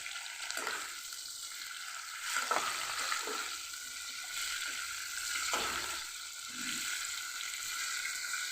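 Cucumber curry with dried fish frying in a pan, a steady soft sizzle with occasional stirring scrapes and clinks, close and alone without talk.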